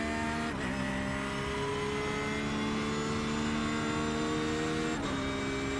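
A Porsche 911 GT3 R race car engine in the iRacing video game on the Nurburgring Combined, a loud, steady high-revving drone held at high speed, with brief dips at gear shifts, heard alone without talk.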